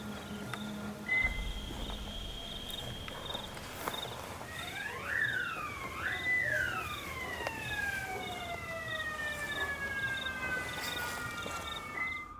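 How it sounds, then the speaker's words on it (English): A siren wails in rising and falling sweeps at a moderate distance over a steady outdoor background with insect-like chirping. No one speaks. "But then a siren goes off as well."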